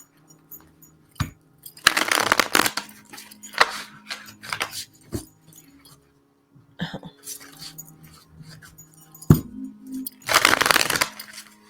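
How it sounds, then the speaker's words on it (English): Tarot cards being shuffled by hand in quiet surroundings, with short crisp riffling bursts separated by softer handling noises and brief pauses. "let's just shuffle some cards"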